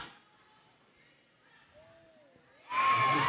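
Crowd cheering at a roller derby bout, erupting loudly near the end after a stretch of quieter background with a faint voice.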